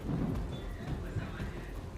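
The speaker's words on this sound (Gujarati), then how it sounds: "વહેલી સવારથી જ ધમાકેદાર વરસાદથી અનેક વિસ્તારોમાં જળબંબાકારની પરિસ્થિતિ સર્જાઈ છે" Heavy monsoon rain pours down steadily over flooded Surat, Gujarat, with a deep, rumbling low roar throughout, like a downpour with distant thunder.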